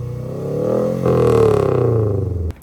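A Honda Integra GSR engine with unequal-length headers revs up steadily with a throbbing, uneven burble, held loud and close for about two seconds, then cuts off abruptly.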